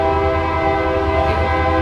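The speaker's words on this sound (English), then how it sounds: "That train going by is scarier than you are." A passing train's loud, sustained horn blares close by in one steady tone over rumbling rail noise near Hill House Manor, with no voices.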